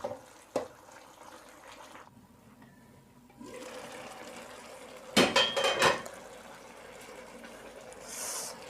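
A metal spoon scrapes and clinks against a cooking pot while gently stirring aloo mater rice pulao, a few close bursts of clatter standing out between quieter stretches of kitchen noise.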